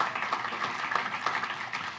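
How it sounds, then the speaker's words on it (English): An audience at an Urban League 100th anniversary breakfast celebration claps steadily, a dense, even patter of many hands filling a room for a couple of seconds. "Let's give them a round of applause."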